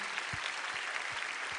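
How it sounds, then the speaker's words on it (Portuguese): A church congregation applauds pastor Márcio during a worship service, steady continuous clapping from a crowd that fills the room without a break. "Vamos aplaudir o pastor Márcio mais uma vez"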